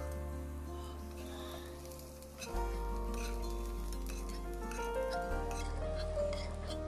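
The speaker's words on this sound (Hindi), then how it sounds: "2-3 मिनट हम आलू को अच्छे तरीके से हाई फ्लेम में फ्राई कर लेंगे" Potatoes fry in oil over a high flame with a steady, close sizzle, joined by occasional clinks and stirring sounds, with no talk.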